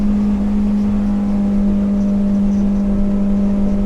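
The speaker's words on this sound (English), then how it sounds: "Yeah, you can hear that hitting the rev limiter." A Yamaha 90HP outboard engine on a 2010 Arima Sea Ranger 19 boat holds at the rev limiter, a loud, close, constant high-rpm drone with a strong steady hum and slight flutter, alone without talk.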